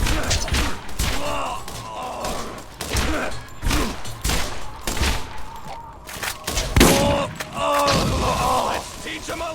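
Video game gunfire in Borderlands: dense bursts of rapid shots and thumping impacts go on almost without a break, loud and close throughout.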